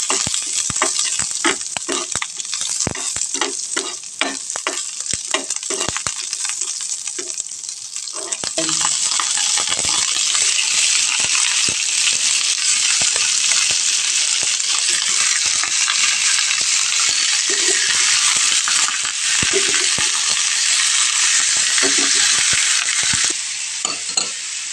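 Food sautéing in a pan for chicken sinigang, with a loud, steady sizzle and repeated scraping and clinking of a utensil stirring throughout.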